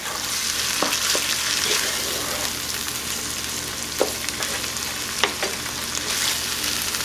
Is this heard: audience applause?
no